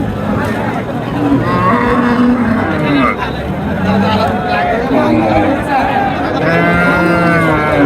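Cattle low and moo repeatedly at the Friday Chowbaria livestock market in Naogaon, loud and close over a constant crowd murmur, with people talking nearby throughout.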